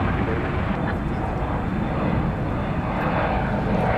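Jet engines of a Qantas Boeing 787-9 Dreamliner rumble steadily at night at DFW Airport, a continuous low, broad roar at moderate distance with no break.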